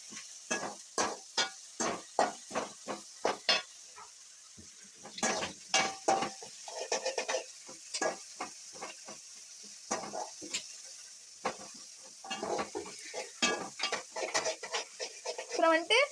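Onions, dried red chilli, ginger, garlic, fenugreek and fennel seeds fry in hot oil in a pan, with a soft sizzle beneath repeated scraping strokes of a stirring spoon in uneven bursts and short pauses.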